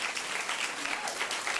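An audience at a Philadelphia civic event claps in a steady, dense round of applause, moderately loud and close, with no voices over it.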